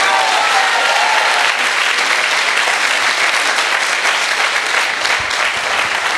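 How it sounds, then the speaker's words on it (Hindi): Sustained, dense applause from a large crowd at a Hindi motivational talk, steady and loud throughout with no voice rising above it. "आपने ताली बजा ली"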